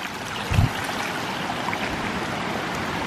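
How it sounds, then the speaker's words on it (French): Mountain streamwater runs across a lakeside trail at Morskie Oko in Poland, a continuous close trickling and gurgling flow with one brief louder splash early on, no voices. "Je sais pas si vous voyez l'eau qui coule."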